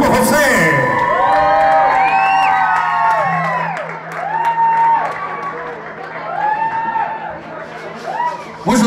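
A concert crowd in Mexico cheers for a performer with loud whoops, shrill whistles and shouting that swell and ebb, while a voice briefly carries over the noise.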